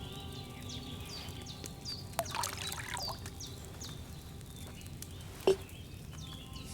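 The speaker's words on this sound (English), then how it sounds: "I poured wine in there." Wine poured into a cauldron in Kingdom Come: Deliverance 2 trickles quietly beneath outdoor ambience with birdsong, broken by a couple of faint clinks.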